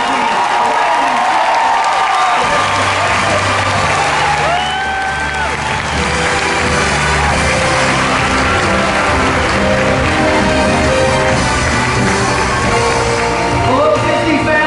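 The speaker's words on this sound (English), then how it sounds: "let's give another big round of applause to the Disney on Broadway cast" A large audience applauds the Disney on Broadway cast at the D23 Expo 2022 Disney Legends ceremony, with loud, dense, continuous clapping and some cheering, and a voice heard over the crowd.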